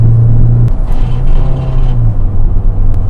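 Toyota MR2 engine fitted with a Funk Motorsport performance induction kit, a loud steady low rumble with a droning idle-like tone throughout.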